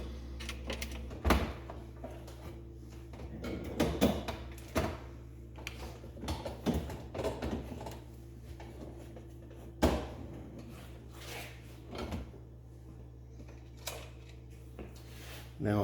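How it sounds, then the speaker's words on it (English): A bottom drawer slides into a GE Cafe CYE23TSDCSS refrigerator that is not cooling. Plastic knocks, scrapes and clunks come at irregular intervals over a steady low hum, with some speech mixed in. "I'm going to go ahead and put the bottom drawer in now first."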